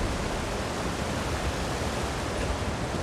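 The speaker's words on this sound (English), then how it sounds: "built into a cliffside where the waterfall just kind of goes right through the city" Waterfall pouring through a cliffside city in Elder Scrolls Online's Markarth, a steady broadband rush of falling water with no breaks, even and fairly close.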